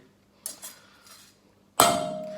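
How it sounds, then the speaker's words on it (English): Grated garlic scraped off the back of a metal grater in a kitchen: a couple of soft scraping taps followed by a sharper metallic clink that rings briefly, fairly close and with no talking. "scrape it off the back of the grater"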